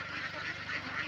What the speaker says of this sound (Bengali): এখন আমার খামারে রয়েছে 512 পিস হাঁস